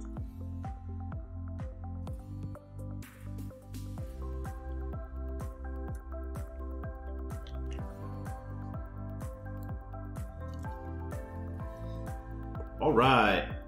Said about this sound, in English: let's go ahead and pour some drops, pH drops, and see what we get.